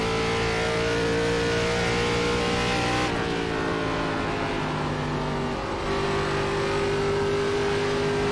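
ARCA race car engines roar continuously in an iRacing NASCAR simulation at Dover, a loud sustained drone whose pitch shifts abruptly as the car changes gears and speed.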